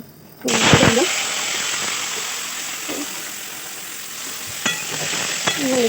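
Potatoes drop into white mustard oil in a kadai with panch phoron and dried chillies, a sudden loud sizzle that settles into steady frying, with light stirring clinks and a few brief voices.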